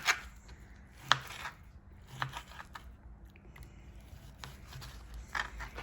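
Thick steak cut into chunks with a knife on a board, a few sharp chopping thuds spaced irregularly over a low background hum, moderately close.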